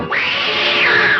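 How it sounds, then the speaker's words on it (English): Cartoon cat Tom from Tom and Jerry letting out a single loud, drawn-out yowl that sounds like a real cat being attacked, rising sharply and wavering for about a second. "it just sounds like an actual cat being attacked and tortured"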